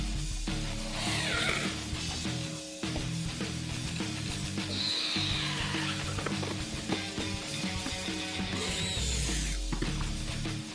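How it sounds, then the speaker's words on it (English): A screw is driven into the end grain of wood for a dog dish stand, the power driver's ratcheting whir running continuously and close with slight pauses and shifts in pitch. "Since I'll be screwing into the end grain of the wood, I like to make sure I have a pilot hole first so I don't split anything."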